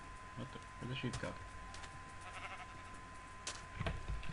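Sheep in the Minecraft video game bleat a few times in short bursts over steady game ambience, with faint background sounds and no clear talk over them.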